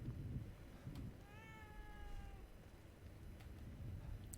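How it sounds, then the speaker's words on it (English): A cat meows once in the video game The Evil Within 2, a clear drawn-out call standing out over a dull, steady game ambience, with no talk. "Can I pet the cat?"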